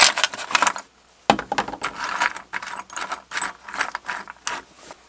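Handfuls of coins and small metal objects recovered from magnet fishing are tipped into a piggy bank, making bursts of clinking and jangling metal that come close and loud in uneven clusters, with a brief pause near the start.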